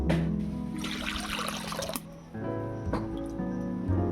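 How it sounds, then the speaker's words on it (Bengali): Water pours into a wok set on a lit stove for boiling eggs, a steady splashing gush for about two seconds that then gives way to quieter dripping and clinking. "ডিম সেদ্ধ করার জন্য জল দিয়ে দিচ্ছি"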